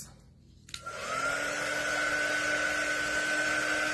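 A hair dryer switches on with a click and rises into a steady, loud whooshing whine as it dries a craft box frame, holding a constant pitch close by.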